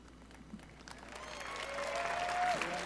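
Audience applause at the Xbox E3 2017 press conference, a large crowd clapping that starts sparse and quiet and swells into steady, dense applause, with a faint tone sliding through near the end.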